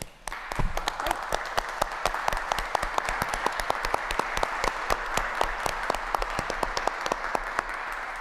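An audience at a city council meeting in Providence gives sustained applause for a council member seated among them: dense, steady clapping from many hands at moderate distance, with no voices breaking through.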